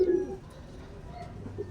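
A recovering pet bird named Doraemon gives a soft, low coo, close and faint over quiet room tone.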